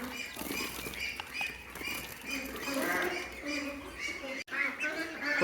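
Pekin Star 13 hybrid broiler ducks quack in a flock on a duck farm. Their nasal calls overlap in a continuous chorus at moderate loudness, with a brief dropout near the end.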